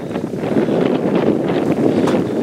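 Loud, constant wind buffeting the microphone, a rough roaring rush that never lets up.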